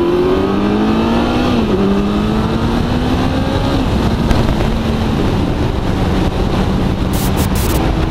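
A Kawasaki ZX14 motorcycle engine drones at speed during a ride, its tone rising and falling under heavy, constant wind roar, loud and continuous.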